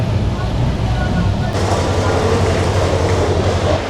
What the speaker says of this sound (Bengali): আমাদের তিন নম্বর প্ল্যাটফর্মে দিয়ে যাচ্ছে আমাদের ট্রেন সুবর্ণ এক্সপ্রেস